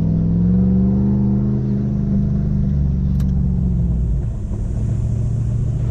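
Toyota Hilux automatic with manual shift control driving in first gear: a loud, steady low engine drone with humming harmonics that eases slightly in pitch partway through.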